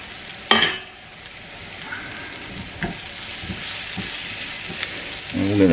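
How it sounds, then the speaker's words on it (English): Shallots fry in a pan with a steady close sizzle, broken by a sharp stirring scrape near the start and soft intermittent clatters, growing busier at the end. "stir this up, and when the shallots start to brown a little bit, that's the time that we're going to take this off the heat"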